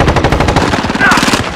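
Loud rapid bursts of MP5 submachine gun fire in Call of Duty: Modern Warfare multiplayer, a fast rattling stream of close shots with short electronic game sounds near the end.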